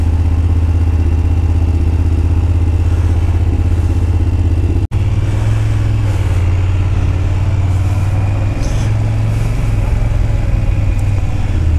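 A motorcycle engine runs steadily and loudly close by for the whole stretch, with a low throbbing drone and some mechanical clatter, and a brief dropout partway through.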